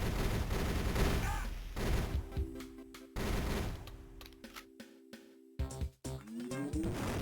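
Shotgun blasts from GoldenEye: Rogue Agent on the DS come as a series of loud, sharp bursts with pauses between, mixed with electronic game tones and a rising beep at the finish.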